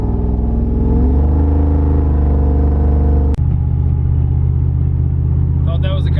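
Supercharged street truck engine running at half throttle on 9 pounds of boost, a loud, deep, close rumble rising in pitch, then settling into a steady low drone after a brief click, with faint sounds creeping in near the end.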